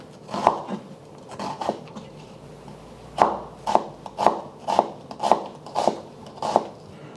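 A knife slices through a red onion on a cutting board, top to bottom, in a steady run of about ten crisp, close chops, with a brief pause after the first few.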